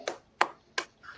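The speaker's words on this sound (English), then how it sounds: "Golf clap." Three slow, quiet claps from a single pair of hands, evenly spaced and close, followed by a softer fourth tap, a polite golf clap.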